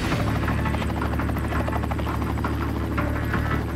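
Rescue helicopter in flight on a 10-minute trip south from Whitianga to Thames, its steady rotor thump and engine whine loud and continuous from inside the cabin throughout.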